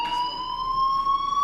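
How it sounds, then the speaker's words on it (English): A fire alarm in Life is Strange rings as one steady, shrill electronic tone, loud and continuous throughout with no pauses. "Hey, do you hear that fire alarm?"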